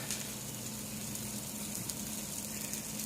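Omelet cooking in a Techef omelet pan, a steady soft sizzle and crackle of frying egg, continuous and fairly faint throughout.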